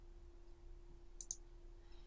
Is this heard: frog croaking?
no